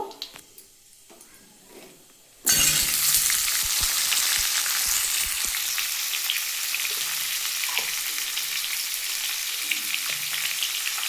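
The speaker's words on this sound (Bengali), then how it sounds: "আমি এবার আলু আর টমেটোটা দিয়ে ভেজে নেব" Potatoes and tomatoes tipped into hot oil in a pan: after a quiet start, a sudden loud sizzle erupts and holds as a dense, crackling fry with occasional stir scrapes.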